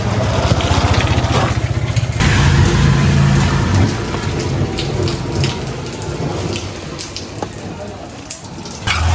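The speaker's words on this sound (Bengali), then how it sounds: "নাকি বৃষ্টি পড়তেছে" Steady rain falls outdoors as a dense, loud hiss that runs through the whole stretch. A low engine-like hum sits underneath it, and brief voices come through faintly.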